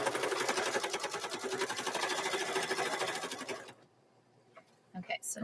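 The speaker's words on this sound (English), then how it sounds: "I'll run that stitch right here" A sewing machine runs a placement stitch for a mug rug at a fast, even, steady clatter for several seconds, then stops, leaving near silence and a few faint handling sounds.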